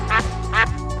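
A cartoon duck quacks twice in a short burst, the calls close and fairly loud, with a third beginning at the very end over a steady background hum.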